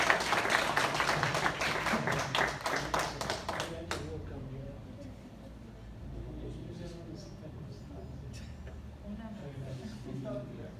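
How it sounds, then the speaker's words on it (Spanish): At a lecture on the Revolution in southern Veracruz, an audience claps loudly and steadily for about four seconds, then the applause drops off abruptly, leaving scattered faint claps and room noise with some voices. "a quien les pido un fuerte aplauso, por favor"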